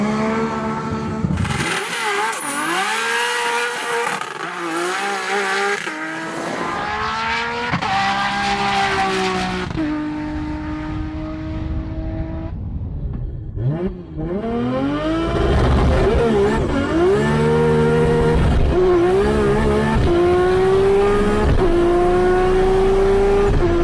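An 1100 hp manual Nissan GT-R street car, a 2.6 block with Nitto 2.8 stroker, Precision 7685 turbo and 6-speed sequential gearbox, screaming through a racing run: loud high revs climbing repeatedly through sharp gear changes, a brief lift midway, then full power again.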